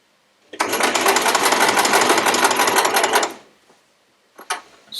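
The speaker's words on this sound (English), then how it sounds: "I've pinned all four of my triangles and I'm now going to sew" A sewing machine runs in one fast, steady burst of about three seconds while stitching pinned quilt triangles, then stops, followed by a couple of brief mechanical clicks and a short rattle.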